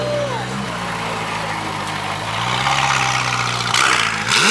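Ferrari F8 revving at a cars-and-coffee gathering: a loud, close engine holds a steady idle-like drone, then climbs into a stronger rev around the middle and surges again near the end before cutting off sharply.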